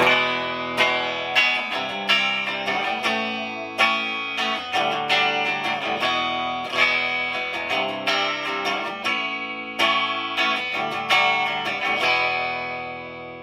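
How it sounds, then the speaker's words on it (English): An electric guitar played through a single-coil bridge pickup carrying a steady 60-cycle hum, with repeated strummed chords ringing out in a rhythmic pattern, close and clear, with some distortion and effects. "in the middle, we use this single coil for the bridge. Now you can hear it has some 60 cycle hum in there"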